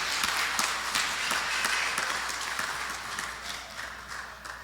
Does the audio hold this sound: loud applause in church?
yes